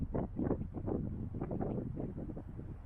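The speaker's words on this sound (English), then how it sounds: "can you even hear me with all that wind?" Wind buffeting a microphone outdoors, low rumbling gusts that thump and swell in uneven bursts, close and fairly soft.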